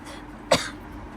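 A single short cough sounds near the middle of an otherwise quiet stretch, close and fairly sharp, over a low background hum.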